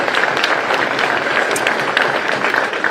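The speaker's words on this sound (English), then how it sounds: "big round of applause for the DGPT, PDGA, and that collaboration" A crowd at the opening ceremony of the 2023 PDGA disc golf world championships gives a steady, dense round of applause, loud and sustained throughout.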